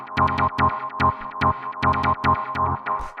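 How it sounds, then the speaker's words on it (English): Punchy, repeated dubby hardgroove techno chord stabs in a syncopated groove, short and bright over a thumping low end, loud and dry with no voices. "these are the kind of like dubby sort of Hardgroove stabs that both of these guys use a lot"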